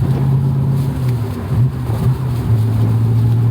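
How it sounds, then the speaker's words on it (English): A Daimler Dart engine blips and revs as the driver double-declutches through a gear change, the close, loud exhaust note rising and dipping in quick steps over a steady low drone. "dip your clutch, flip your throttle, and then what it does, it lets the gearbox get in tune with the engine speed"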